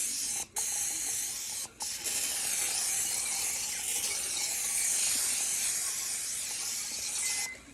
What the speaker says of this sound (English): We're gonna spray the griddle because you don't want anything to burn.